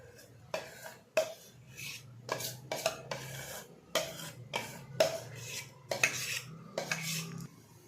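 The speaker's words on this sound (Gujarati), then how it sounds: "હવે એક જ બાજુ સતત હલાવવાનું" A spoon stirs khaman batter mixed with Eno and water in one direction, scraping the bowl in a steady series of about a dozen close, quiet strokes, with no speech.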